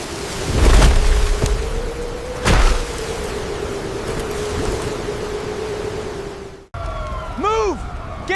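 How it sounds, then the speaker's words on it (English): Blinding downpour of heavy rain in a prehistoric thunderstorm, a dense steady hiss with loud bursts near the start, ending in a sudden cut followed by a brief warbling tonal sound. "Rain turns into a blinding downpour."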